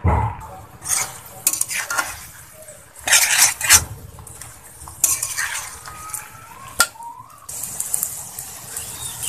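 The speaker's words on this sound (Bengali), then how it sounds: "এখন আমি এটাকে নেড়ে চেড়ে আর একটু রান্না করে নেব।" A spoon stirs okra and chepa shutki in a pan, scraping and clinking in irregular bursts over a low sizzle, close and fairly loud. No speech.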